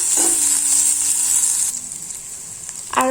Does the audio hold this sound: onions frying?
yes